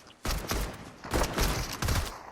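Rapid bursts of video-game gunfire from an AK-style rifle, three short volleys of crackling shots in quick succession, fairly close and with no talking.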